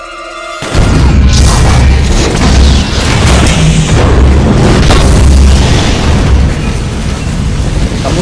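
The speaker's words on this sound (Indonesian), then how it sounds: "terlihat Jack dan John yang akhirnya berhasil menghabisi anak buah Irina menggunakan sebuah bom." A bomb blast in an action film erupts with a loud, deep boom, then rumbles and crackles on for several seconds as debris settles.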